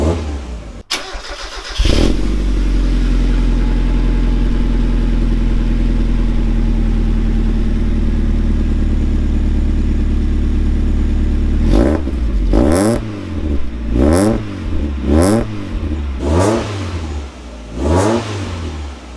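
A first-generation Mazda MX-5 Miata with a custom stainless steel exhaust starts up with a sharp crank, settles into a steady deep idle, then gives a series of rhythmic throttle blips that rise and fall with a slight rasp.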